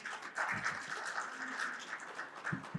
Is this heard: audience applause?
yes